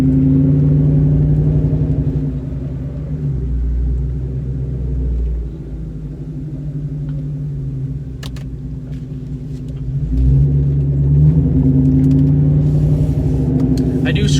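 A 2003 Ford Mustang GT 2V with aftermarket exhaust and lowering springs rumbles deep and loud while driving, swelling and easing with throttle, with someone talking over the engine.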